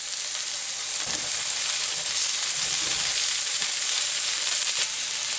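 Chopped onion sizzling steadily as it drops into hot oil for a mushroom Manchurian, a bright, dense crackle holding constant and close throughout with faint stirring bumps underneath.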